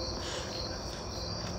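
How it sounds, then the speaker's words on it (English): Crickets chirp outdoors in a continuous, dense, high trill that holds steady and fairly loud throughout, with no voices over it. "so you're going to hear a lot of chirping. That is the crickets."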